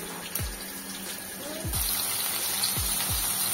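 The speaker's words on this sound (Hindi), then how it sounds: "और दीदी भाई हमारी आज फिश डिपार्टमेंट पे है, बाजार से फिश लाई है और उसे धो रही है।" Tap water runs steadily while fish bought from the market is rinsed in a home kitchen, a continuous splashing flow that grows louder partway through, with a few low thumps.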